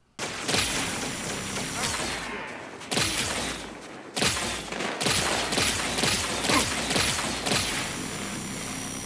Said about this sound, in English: in Halo 2, you have the most epic sounding Moonraker laser that I've ever heard in a game before